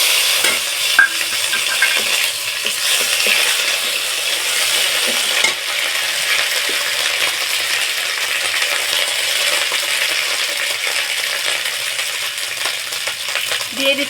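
Spices tempered in hot oil with ginger paste in a pan for a simple vegetarian dish, sizzling and crackling steadily up close, with a few light scrapes of stirring and no talk.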